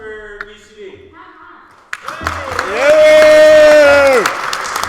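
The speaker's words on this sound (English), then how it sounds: "round of applause for UCD" Audience applause for the UCD team at a Trinity versus UCD colours debate rises after a spoken lead-in, joined by a loud, sustained, whooping cheer that swells and then cuts off.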